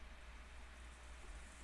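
Rain from the visual novel Umineko no Naku Koro ni, a faint, steady wash of falling rain with a low rumble beneath, unbroken and even.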